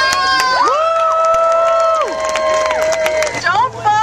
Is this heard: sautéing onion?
no